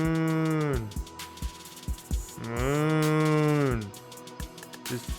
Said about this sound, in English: If you listen closely to the cows, sometimes you can hear them saying,